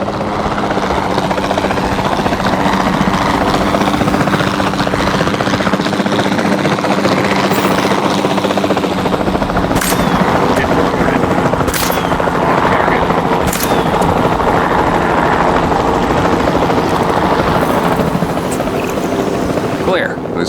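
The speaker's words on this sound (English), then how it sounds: "Then, the sensible thing is to take a capture team helicopter." Capture team helicopter in Jurassic World Evolution 2 flying continuously, a loud steady rotor drone with several sharp shot-like bursts cutting through.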